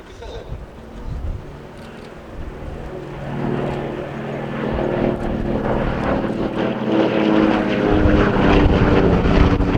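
Vintage propeller aircraft, an Avro Anson or Lockheed 12a, flying at an air display at Shuttleworth Old Warden, its engine drone swelling steadily louder as it approaches, with faint talk early on.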